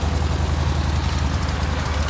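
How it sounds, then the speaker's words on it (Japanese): A low, steady motorcycle engine idle, a 2015 Yamaha Bolt XV950, rumbles continuously close by, with an even throbbing hum and no talking. "こっちもエンジン音聞かせてもらおうかな"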